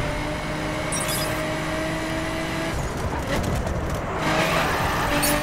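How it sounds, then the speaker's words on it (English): An RX-7 in The Crew roars along with its engine droning steadily, then hits a jump and drifts, the sound shifting into rougher tire and engine noise that grows louder toward the end. "Oh, we had a little jump drift right now."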